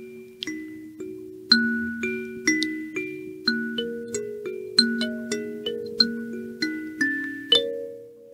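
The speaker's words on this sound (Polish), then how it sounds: "posłuchajmy, kalimba, może się uda." A kalimba plays a slow, gentle melody of plucked metallic notes, each ringing and decaying, in a steady rhythm and heard clearly alone.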